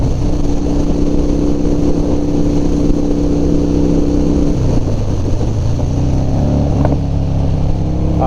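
A Harley-Davidson Dyna motorcycle rides along a road, its engine droning loudly and continuously up close, with pitch shifting as the bike changes speed.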